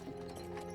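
Rhythmic clip-clop of a horse's hooves pulling a cart in an animated Castlevania episode, a quick run of even hoofbeats under a soundtrack bed.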